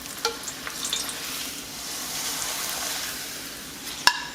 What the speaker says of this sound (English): I'm gonna dip them for a quick fry